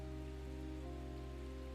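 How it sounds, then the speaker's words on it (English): Soft, steady rain falls gently in a continuous even patter with no other sounds, quiet and close throughout. "The rain continues its gentle song."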